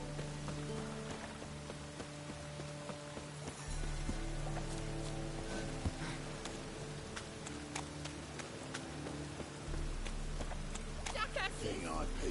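Steady rain hisses through a moody game scene in The Witcher 3, a constant wash beneath music and low ambience, with occasional louder surges and scattered drips.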